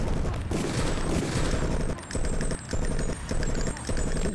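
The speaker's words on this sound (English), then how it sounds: "Gunfight." Sustained gunfight in Deus Ex, dense rapid shots and impacts firing almost continuously with brief gaps, loud and close throughout.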